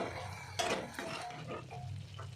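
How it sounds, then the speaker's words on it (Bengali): Mustard and poppy seed paste sautéing in a pan for a pabda fish curry, giving a soft steady sizzle with scattered scraping and clinking of a spatula against the pan, close and moderately quiet, with no voices. "এবার পোস্ত বাটাটা দিয়ে সর্ষে বাটাটা দিয়ে দিলাম। এবার একটু কষে জল দিয়ে দেবো।"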